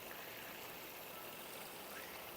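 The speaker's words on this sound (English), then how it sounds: "the waterfall, which you can probably hear better than see" Steady broadband rush of a waterfall in a rooftop garden, continuous and even throughout, moderately quiet with no voices.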